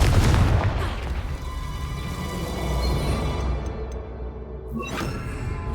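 Spell blast explosion from Confringo cast in Hogwarts Legacy: a heavy booming burst opens loud and close, then a long rumbling roar and crackle of debris that slowly fades over several seconds.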